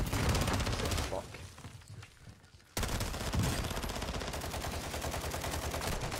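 Dense, rapid gunfire from a shooter video game, loud and close, with sustained bursts that briefly thin out before resuming at full intensity.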